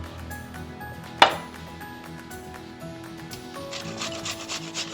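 Zucchini chunk rubbed against a metal grater while making double chocolate zucchini bread: steady close scraping strokes with one sharp knock early, then brighter rasping toward the end, no voices.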